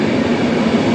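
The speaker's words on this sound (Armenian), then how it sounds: "Հա, այսիմ գնացքը եկավ" Train arriving at a station, a dense continuous loud rumble of wheels and carriages filling the short moment, close by and without voices.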